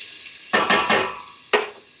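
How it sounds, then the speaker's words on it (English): Onions and garlic sautéing in a pan, a close soft sizzle broken by a few scraping stirs of a utensil against the pan, with no talking. "So we're going to saute our garlic, or our onions, until they are a little bit soft"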